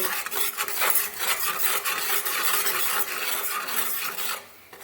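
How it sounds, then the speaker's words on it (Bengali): A spice mix of chilli powder, cumin powder and salt stirred in a pan for cauliflower pakoras, making a continuous close scraping and rasping with rhythmic strokes that softens at the end. "আর হাফ চামচ জিরের গুঁড়ো আর সামান্য নুন দিয়ে মশলাটাকে ভালো করে মিশিয়ে নেব"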